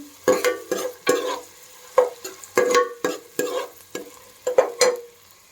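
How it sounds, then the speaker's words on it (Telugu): Onion pieces sizzle in hot oil for a Telugu amaranth-leaf and moong dal fry. A spatula scrapes and stirs the pan in a steady rhythm of about ten sharp strokes over a quiet, continuous crackle. "నూనె హీట్ ఎక్కింది ఇప్పుడు ఫస్ట్గా ఉల్లిపాయ ముక్కలు వేసుకోవాలి ఉల్లిపాయ ముక్కలు కొంచెం ఒక టూ మినిట్స్ వేగాలండి"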